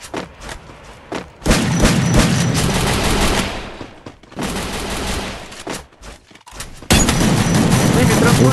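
Rapid bursts of gunfire from a battle royale video game, with loud sustained volleys and thudding impacts in several stretches, separated by brief gaps, while players talk excitedly over the shooting.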